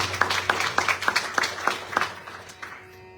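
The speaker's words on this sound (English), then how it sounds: "And of course, Ariana Ji, lovely round of applause." A small temple congregation claps during a Sharad Navaratri night service at a Hindu mandir, with roughly a dozen distinct, fairly sparse hand claps over a few seconds that thin out and fade toward the end.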